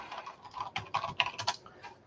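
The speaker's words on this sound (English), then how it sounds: "I'm going to type it here." A computer keyboard is typed on in a quick, irregular burst of close, crisp key clicks for about two seconds, with no voices.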